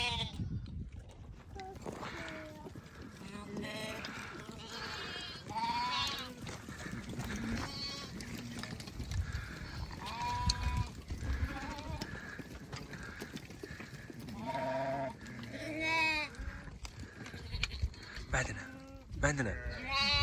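Lambs and sheep bleat again and again on a farm, some cries near and loud and others farther off, with occasional hoof clops and people calling to the animals.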